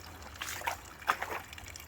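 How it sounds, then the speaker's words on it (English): Water trickles and dribbles into a waterlogged garden with drainage problems, a faint, soft patter with a couple of small splashy bursts over low background rumble, no talking. "You could probably hear the water coming into the garden"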